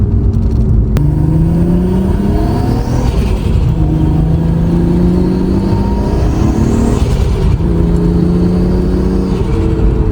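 A Nissan R32 GTR Skyline engine drones loudly and continuously from inside the car, pitch climbing through each gear then dropping at the upshifts and a downshift.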